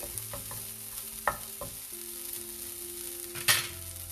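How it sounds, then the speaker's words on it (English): Coriander sautés in a hot pan, a continuous sizzle broken by a few sharp clicks and scrapes of a spoon stirring, with one louder knock near the end. "Now I'll add coriander. Saute this a little bit."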